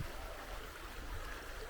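A small river after heavy rain, running deep and fast on the Derwent, gives a steady, close, full-bodied rush of water with no pauses.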